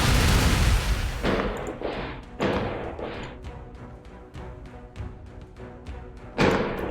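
Fireworks go off outdoors in a rapid, irregular string of sharp cracks and thumps. A dense opening burst gives way to scattered bangs, and a final loud pop closes the sequence.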